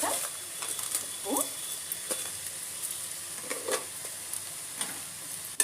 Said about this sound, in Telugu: మొత్తం మళ్ళీ మనం కలుపుకోవాలి కారం అని